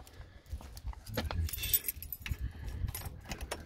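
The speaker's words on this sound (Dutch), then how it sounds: "een sleutel gepakt" A small bunch of keys jangles and clinks several times as it is picked up beside a parked car, close and fairly quiet against light background rustling.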